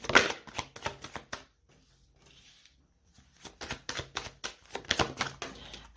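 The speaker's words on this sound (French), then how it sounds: "Allez, on va voir ce que nous dit l'oracle des miroirs. On va prendre 3 cartes." Oracle cards are shuffled in rapid, crisp bursts of flicking and slapping, close and loud, broken by a quiet pause in the middle before the shuffling resumes.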